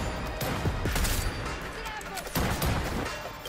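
Gunfire in Cyberpunk 2077 fills a dense, loud stretch of rapid shots and impacts, with two stronger bursts and people talking through the din.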